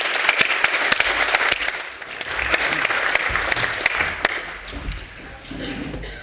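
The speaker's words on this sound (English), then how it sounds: "Oh, extra applause." Sustained applause from an audience at a building society AGM award presentation, dense steady clapping across the whole stretch with a brief dip midway before swelling again.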